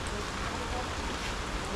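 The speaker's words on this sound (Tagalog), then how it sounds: "Sana wag nang ganto na lang yung ulan, wag nang lumakas." Rain falls steadily at a wedding catering setup at Valley Golf in Antipolo, a soft, even hiss with no breaks in it, fairly faint and heard without any speech over it.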